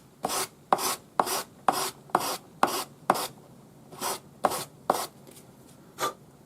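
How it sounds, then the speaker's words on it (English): Short rasping strokes of 400 grade sandpaper on a sanding stick rub across the joint of a forged metal bangle, about a dozen quick passes in a loose rhythm, close and crisp with brief pauses, no talking. "tidy up the joint using 400 grade sandpaper on"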